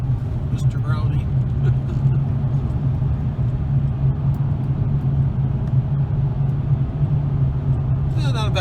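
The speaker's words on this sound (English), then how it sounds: "Yeah, not a bad day for driving." Car driving along a road, a steady low engine and road rumble from inside the cabin throughout, with a person talking over it.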